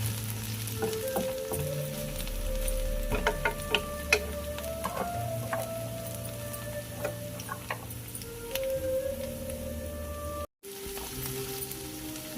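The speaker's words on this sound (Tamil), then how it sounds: "அப்பப்போ ஒரு 5 நிமிஷத்துக்கு ஒருக்க இந்த மாதிரி கிண்டி விட்டுக்கோங்க" Spanish egg omelette mixture sizzling softly in a covered pan while being stirred, a low continuous fry with scattered light clicks and taps, one brief dropout near the end.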